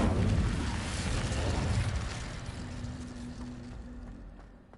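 An Incendio fire spell cast in the Hogwarts Legacy video game roars out as a loud, dense burst of flame that whooshes strongly at first, then slowly dies away over a few seconds.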